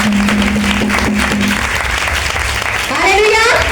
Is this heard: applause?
yes